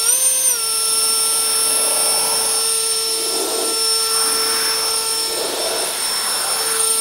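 A WORX Nitro 40V cordless leaf blower runs in turbo mode with a loud, close, steady high-pitched whine. The pitch rises briefly at the start, then the blower holds a constant roar with faint whooshing swells.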